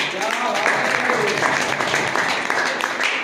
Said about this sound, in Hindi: एक बार जोरदार ताली चाहूंगा